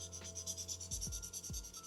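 A Spectrum Noir bullet-nib marker drawing on giant graph paper, a faint, close, rhythmic scratchy rubbing with repeated short stroke sweeps and no speech.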